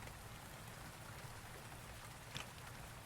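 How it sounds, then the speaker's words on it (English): Heavy rain pours in a night city scene of the game Rainswept, a dense constant hiss of drops striking the ground with one brief sharper splash, steady and close. "I can't hear you over the rain"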